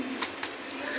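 A pigeon gives a brief, low coo over steady background hiss.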